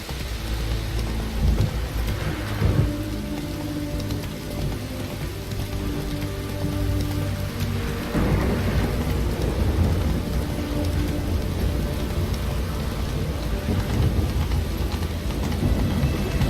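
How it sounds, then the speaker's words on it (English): Steady rain and rolling thunder from The Witcher 3 on PC, with the downpour continuous throughout and heavy thunder rumbles swelling near the start and again around the middle, no voices. "Witches have conjured rain."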